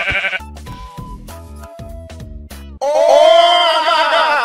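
A sheep bleats in a Minecraft-like video game: a loud, wavering bleat rises alone after a run of short, choppy game sounds and tones.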